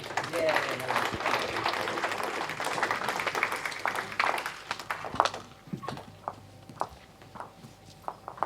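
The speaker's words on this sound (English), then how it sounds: "give both players a nice round of applause" Audience applause for the players at a bowls match in a European Masters session, a dense burst of clapping that thins into scattered individual claps, heard mid-distance alongside a voice talking.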